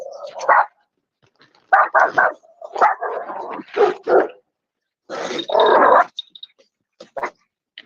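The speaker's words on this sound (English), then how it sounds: "Man, who let the dogs out? Excuse the dogs" Several dogs bark in short, loud bursts, some close together and some spaced apart, with yips mixed in and silent gaps between the outbursts.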